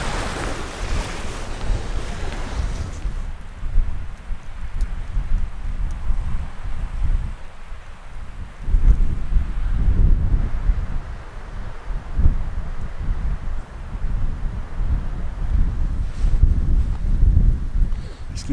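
Wind blows across a beach in Nova Scotia, a steady roar with gusts that swell and fade and heavy buffeting on the microphone, while surf rumbles underneath.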